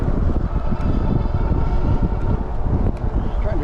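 Steady wind noise buffets the microphone while riding a Wallke H9 all-wheel-drive e-bike on back roads at about 22 mph in pedal assist 2, sixth gear, a continuous loud rush with no pauses.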